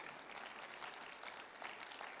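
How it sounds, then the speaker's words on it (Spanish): A church congregation applauds together during a worship service, a steady, fairly soft wash of clapping that lasts the whole stretch without a break. "Denle un aplauso al Señor."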